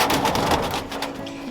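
Birds in a pen being caught, with pigeon-like cooing and fluttering, a steady close, loud flurry of bird sounds and no talking.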